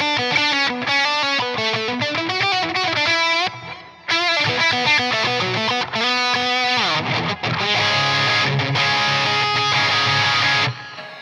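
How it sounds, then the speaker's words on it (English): Electric guitar played through a high-gain PRS Archon-style amp with delay and reverb, loud saturated riffs and sustained chords with a brief break midway, ringing tails under the playing and no talking. "the archetype amp turns on, which is a high gain PRS archon kind of thing. Still has delay, still has reverb"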